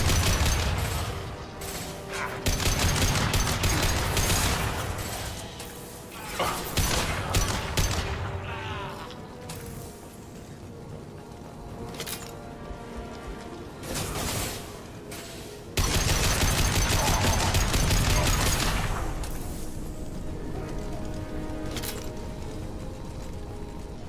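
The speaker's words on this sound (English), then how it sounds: "Firing concussive shots!" Gunfire and concussive blasts in the video game Mass Effect 2, loud dense bursts of shots and impacts in repeated clusters with brief lulls, mixed with game ambience and no clear talk.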